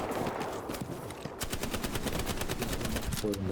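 Gunfire in Hell Let Loose, rapid bursts of close machine-gun fire firing in fast rhythmic volleys, with a voice speaking underneath.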